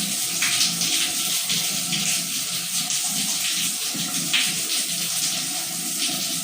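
Animals bathing in water, with a continuous rush and splash of flowing water close by at an even level and no speech.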